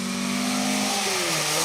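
Volvo P1800S rally car racing along a rally stage at a historic rally, engine loud and close with a sustained revving tone that rises in pitch as it accelerates past.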